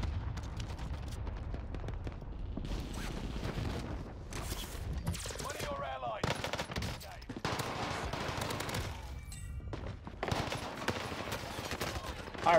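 Rapid bursts of SMG fire from an Owen Gun in Warzone's Rebirth Island crackle in dense, repeated volleys with short gaps, loud and close, mixed with scattered distant shots and explosions.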